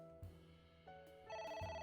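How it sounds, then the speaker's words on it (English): A phone rings inside the video game AI: The Somnium Files, a synthetic electronic ringtone of sustained tonal chimes that rise in stages and grow fuller toward the end, faint and heard alone. "Phone call."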